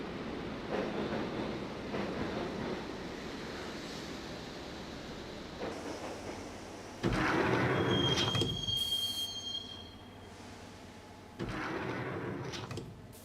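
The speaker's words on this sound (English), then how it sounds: "the train doors had already shut behind me, and I was in for the ride" A subway train rides toward Roscoe Street Station in the game Max Payne, with a rumbling roll of wheels, rising bursts of metallic wheel squeal and clatter, loud and close throughout.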